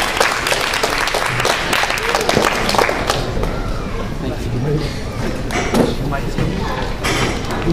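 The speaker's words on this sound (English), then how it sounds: "Round of applause, please" Applause from an open-mic audience at a university poetry night, steady and dense for several seconds, with some cheering voices mixed into the clapping.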